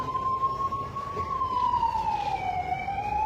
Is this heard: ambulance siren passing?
yes